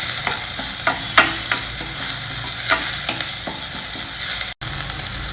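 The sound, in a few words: frying chopped onion and ginger in a pan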